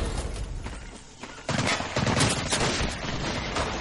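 Rapid bursts of gunfire in the video game Medal of Honor: Pacific Assault crackle in quick succession, dense and fairly loud, with overlapping shots and no speech.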